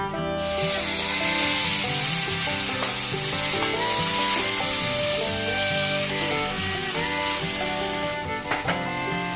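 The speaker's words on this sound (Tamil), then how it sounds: "போட்டு நல்லா வதக்கிக்கங்க." Loud, steady sizzling of boiled potatoes sautéing in a hot pan for a spiced potato stir-fry, with occasional scraping and stirring knocks, continuous and close.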